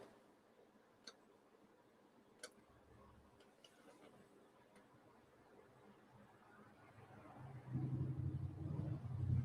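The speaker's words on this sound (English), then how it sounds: "Traffic is super loud this morning as well." Morning road traffic outside, a faint low rumble of passing vehicles that swells louder near the end, with a few soft ticks in the quiet room.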